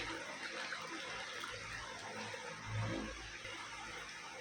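Water poured into a thick batter as it is mixed in a kitchen, a steady faint splashing wash with a small swell partway through, no voices.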